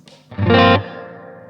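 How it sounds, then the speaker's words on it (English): An electric guitar plays a clean tone with reverb through a Stone Deaf SD-30 amp head: one loud, full chord rings out briefly and then fades into a lingering reverb tail. "there's my clean tone with the reverb"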